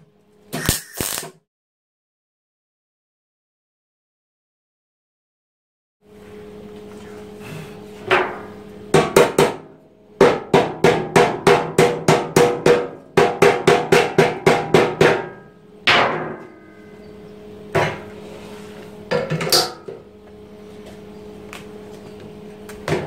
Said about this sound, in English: I reckon I can go for a good nice weld across the bottom now.